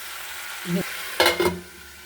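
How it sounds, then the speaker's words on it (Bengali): Potatoes cook with chicken and tomato in a pan for a kosha curry. A soft, faint sizzle runs underneath, broken by two or three short, louder scraping stirs near the middle. "এবার আলুটাও একসাথে কষিয়ে নেব ভালো করে।"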